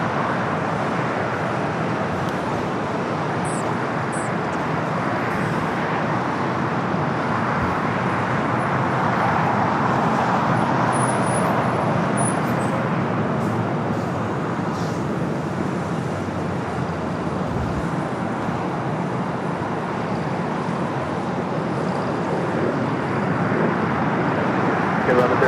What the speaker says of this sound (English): United Flight 530 coming from Chicago O'Hare. 757 at 300.